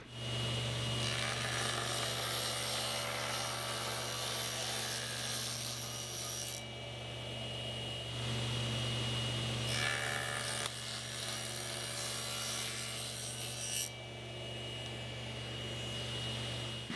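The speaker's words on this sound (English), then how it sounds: "Because the spline needs to be thinner than this part that I'm using to push the material through the saw, I'll make the cut in two passes." A table saw rips a wooden spline for a rosewood and epoxy knife handle in two passes, a steady loud whine of blade through wood running continuously with slight changes where the piece is flipped for the second cut.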